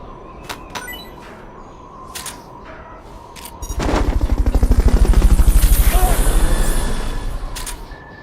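A Fulton recovery in Metal Gear Solid: a few sharp clicks and thuds, then a loud rhythmic helicopter-like whir swells for about three seconds and fades, close and dominant.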